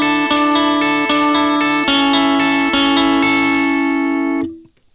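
Electric guitar played through a Line 6 POD HD500X with the compressor pedal switched off, giving a bright, effected tone: a handful of picked notes ringing with distortion and reverb, loud and close, then a sustained note fading out.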